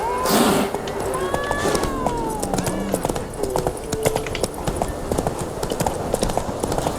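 Steady clip-clop of horse hooves at a trotting rhythm in The Witcher 3: Wild Hunt, close and continuous, with a few tonal game sounds and faint chatter over the top.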